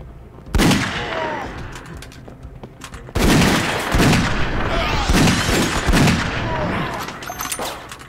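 Video game gunfire comes in loud, close bursts of shots and heavy impacts, with a break near the three-second mark before a second long volley.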